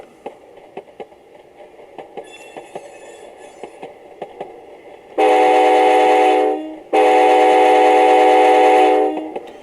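Sound car on a scale model train running around a test track, giving a steady loud rolling rumble with rhythmic clacking in two long bursts after a quieter stretch of faint ticks and a thin high tone.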